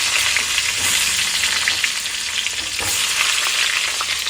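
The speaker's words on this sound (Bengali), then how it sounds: "চিকেন করব, ওই জন্য আলুগুলো একটু ভেজে নিচ্ছি আগে।" Potatoes fry in a pan ahead of a chicken dish, giving a steady, close, dense sizzle that crackles evenly throughout, with no talking.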